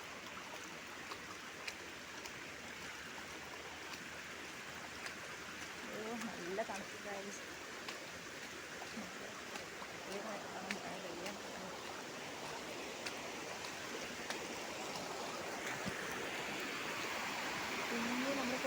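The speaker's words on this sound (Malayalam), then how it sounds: "നടക്കുന്ന ഈ കോൺക്രീറ്റ് വഴി കൂടെയാണ് ഗൈസ് വെള്ളം ഒഴുകുന്നത്." Stream water flows over a concrete footpath used as a village road. A soft, steady rushing hiss holds throughout at low volume, and a nearby voice speaks briefly over it.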